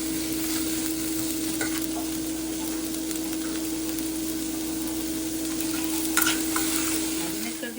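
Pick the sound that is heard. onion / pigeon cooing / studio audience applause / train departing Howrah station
onion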